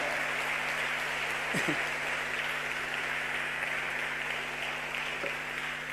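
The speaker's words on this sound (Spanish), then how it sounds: "De un aplauso al Señor ahí, vamos" A church congregation applauds during a sermon by a pastor, giving a continuous, fairly faint wash of clapping over a low steady hum that holds evenly throughout.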